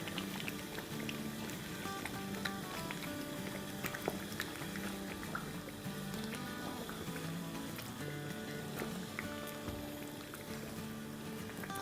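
Green chillies and julienned ginger fry steadily in a pan, giving a dense, even sizzle and crackle that runs close and unbroken throughout.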